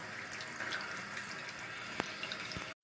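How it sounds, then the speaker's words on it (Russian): Steady hiss of running water from a shower during a bathroom routine, continuous and fairly close for nearly three seconds before cutting off abruptly. "И приму душ."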